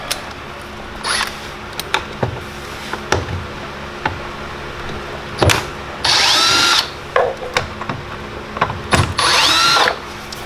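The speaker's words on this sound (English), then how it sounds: "So I'm going to use a Blue Point Torx bit set." Short bursts of a power driver with a Blue Point Torx bit working screws on an FG Falcon interior door panel, several whirring runs separated by clicks and handling noise, close and loud.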